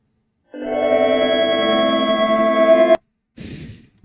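A game song in a Lua program restarts every frame, fusing into one loud, harsh, buzzing harmonic drone for about two and a half seconds. It cuts off abruptly, then a short, softer noisy burst follows.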